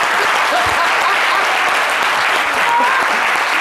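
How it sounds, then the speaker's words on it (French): Loud, sustained audience applause at a comedy-style guest talk show, a dense continuous wash of clapping with faint crowd murmur beneath it from start to finish. "Pardonnez, applaudissez pour ce monsieur."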